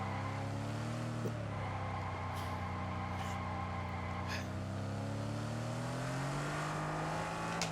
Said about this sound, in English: The engine noise you get, oh my god.